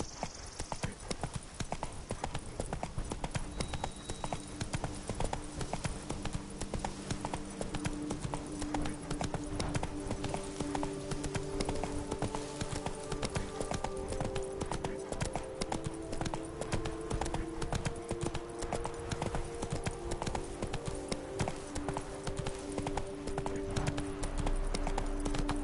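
Roach's hooves clip-clop steadily and briskly in The Witcher 3, a close, continuous rhythm running throughout over faint game ambience, with a brief neigh-like note and little speech.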